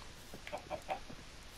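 Chickens clucking in the video game Minecraft, three short soft clucks spaced evenly over a faint background, no talking.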